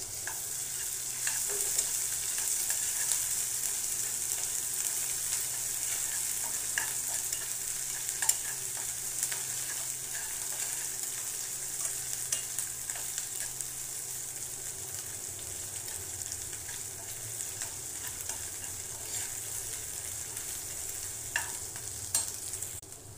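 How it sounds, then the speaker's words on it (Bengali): Chopped onion with crushed garlic fries in a pan, giving a long, steady sizzle with occasional scraping stirs and small crackles throughout. "পেঁয়াজ ভাজা হচ্ছে, শাক দিয়ে দেবো।"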